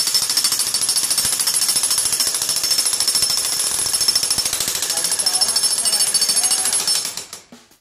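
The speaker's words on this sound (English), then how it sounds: "This was the first time he used this jackhammer." A jackhammer hammers nonstop in rapid, loud, close pounding bursts, then dies away in a few trailing knocks at the very end.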